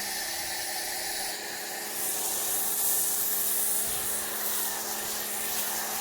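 A steady, breathy hiss of a foam cannon spraying acid wash on a car, swelling slightly midway and holding on without pause, fairly close.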